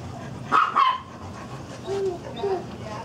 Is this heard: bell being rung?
no